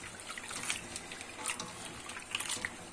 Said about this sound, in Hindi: इसमें इतना पानी डालूंगा जिससे ये डूब जाए